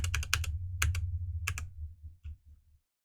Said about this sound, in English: Welcome back, loud keyboard.